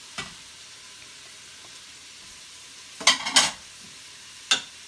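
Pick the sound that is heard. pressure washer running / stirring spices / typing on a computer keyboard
stirring spices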